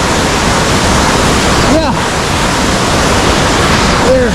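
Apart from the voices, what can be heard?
Kuang Si waterfalls in Laos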